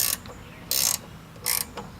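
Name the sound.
ratchet tightening a lawn mower blade bolt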